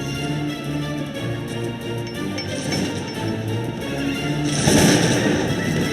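Rifle volleys and artillery rattle through a Cossacks 2 battle between Poland and Russia, with dense, overlapping shots and clinks building to a louder burst near the end, and no talking.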